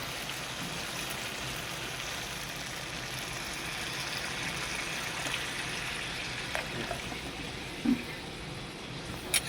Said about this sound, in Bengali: মশলা হয়ে এসছে, এখন দেবো জল